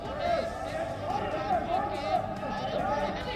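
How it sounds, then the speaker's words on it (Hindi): Opposition MPs hooting and chanting slogans in parliament, a steady dense din of overlapping shouting voices with rising and falling chant-like cries throughout. "विपक्षी पार्टियां हूटिंग और नारेबाजी कर रही हैं।"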